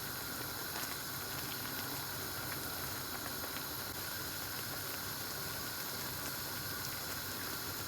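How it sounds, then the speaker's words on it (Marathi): Spinach simmers in salted water in a pot, a soft, steady hiss and bubbling rumble that stays even and fairly quiet throughout, with no voices. "असाच पालक आपल्याला हा 2 मिनिटं पाण्यामध्ये उकळून घ्यायचा आहे"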